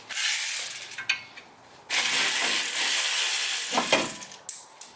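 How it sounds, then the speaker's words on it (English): Ratcheting and clicking of a tool loosening the security wheel lock bolt on the front hub of a BMW E46 during a brake job, close and fairly loud in bursts with short pauses, no talking. "I do need to take off this lock, security lock."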